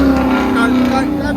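A car at a car show revs hard with its rev limiter partly off, a loud, close, sustained engine roar holding a steady droning pitch throughout.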